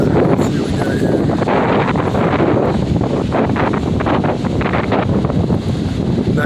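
Strong outdoor wind buffets the microphone with a loud, continuous roar and rumble that carries steadily throughout without a break.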